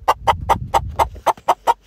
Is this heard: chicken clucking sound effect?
yes